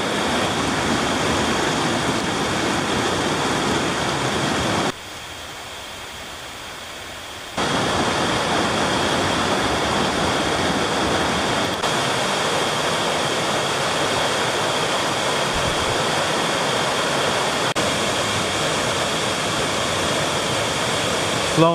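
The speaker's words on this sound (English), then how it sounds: "It's a nice cascade right there. It's been raining all weekend. It's flowing pretty good." A mountain cascade in the Great Smoky Mountains runs strongly after a weekend of rain, giving a loud, steady, close rush of falling water that dips briefly in level before returning full.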